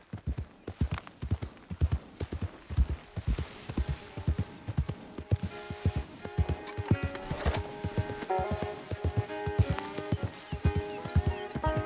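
Hooves clip-clop at a brisk, even pace as a mare is ridden toward Blackwater in a PS4 western video game, close and steady, with occasional snorts and game sounds layered in.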